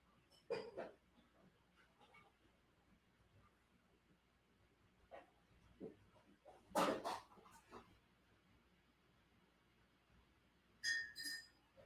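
Glass clinks in short, sharp bursts while a drinking glass is fetched for water, several scattered clinks over low room noise, with faint dog sounds in the background.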